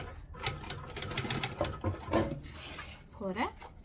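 A sewing machine stitches fabric in quick whirring bursts, close up, with a person talking over parts of it.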